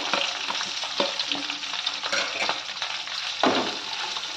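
Green chillies and chopped onions fry in hot oil in a pan, giving a loud, steady sizzle that runs throughout with light stirring scrapes, and nobody speaks.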